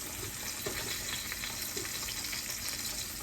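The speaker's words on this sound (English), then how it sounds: "And we're gonna add the mushrooms to that. Let them cook up a little bit." Mushrooms sizzle and fry in a hot pan, a dense continuous crackling hiss with occasional stirring scrapes, close and steady throughout.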